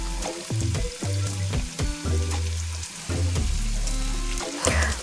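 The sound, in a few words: sautéing seasonings: red pepper flakes, black pepper, garlic powder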